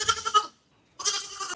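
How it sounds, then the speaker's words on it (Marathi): A newborn goat kid gives two close, thin bleats separated by a short pause, each quavering and high-pitched. "बकरीचा पिल्लू आता जन्माला आलाय."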